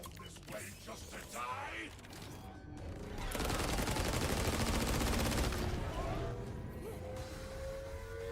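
Rapid automatic gunfire from the Hot Slugger weapon in a video game, a dense burst that swells loudest midway and then fades, with players talking around it.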